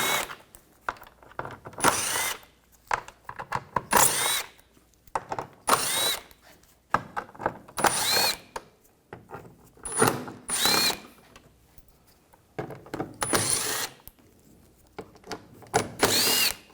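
A power drill fitted with a 7mm socket backs screws out from under a 2013-2019 Ford Escape 2.0L radiator support, running in about nine short loud whirring bursts with brief pauses between them.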